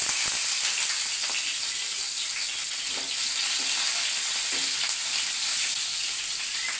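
Shallots fry in hot oil after the mustard seeds have popped, while vegetable kurma is being cooked: a steady, close hiss and sizzle that holds even throughout, with a few faint crackles and no talking.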